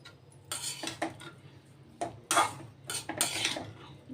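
Cooled cauliflower pieces tossed with ground chili powder for pickle, a spoon clattering and scraping against a metal vessel in several quick bursts, close and sharp, with quiet gaps between.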